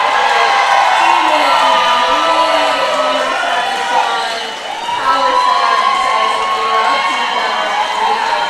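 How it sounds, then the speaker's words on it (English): Roller derby skaters from both teams lined up on the benches cheer for the skaters on track during the final jam of a World Cup game, a steady, loud crowd roar with shouts and whoops throughout, under a voice. "all our skaters from both teams lined up on the benches to cheer on the skaters on track"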